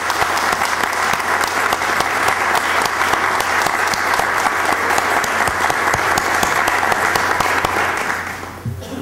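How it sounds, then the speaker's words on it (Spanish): Sustained, dense applause from a large audience at a citizen security committee ceremony in Miraflores, loud and steady throughout before tapering off in the final second. "Por favor, un aplauso para ustedes."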